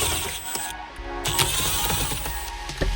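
Ratchet with a 10mm socket working Toyota HiLux dashboard bolts, a quick series of close, light clicking ticks over a low background hum, with no talk.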